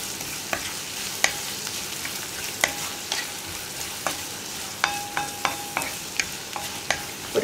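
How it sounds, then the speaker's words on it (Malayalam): Sliced onions with salt stirred in a hot pan, a steady soft sizzle broken by frequent sharp scrapes and taps of the spoon against the pan, close and alone with no talk. "ഇനി ഈ സവോള ഒന്ന് ട്രാൻസ്പെറൻ്റ് ആയി വരുന്നത് വരെ നന്നായിട്ട് ഇളക്കി കൊടുക്കുക"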